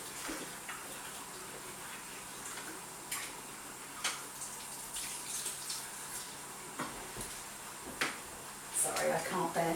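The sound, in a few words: washing hands under running tap water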